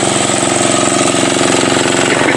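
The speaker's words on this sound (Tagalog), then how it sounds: "napunta dito sa aming makina. Diesel po yan." Diesel engine powering an irrigation pump on a calamansi farm in the Philippines, running alone as a steady, loud, close mechanical drone with a fast even pulse and no speech.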